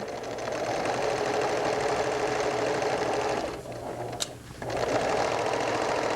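A sewing machine runs steadily while stitching a sweater, easing fabric in, with a continuous close hum that briefly dips and pauses before resuming.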